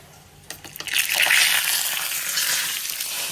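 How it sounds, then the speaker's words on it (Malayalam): Mustard seeds hit hot oil on a home stove and pop, a few sharp crackles giving way to a loud, sustained sizzle that slowly eases, close and without voices. "കടുക് പൊട്ടി ആകെ തെറിച്ചിരിക്കണം കേട്ടോ."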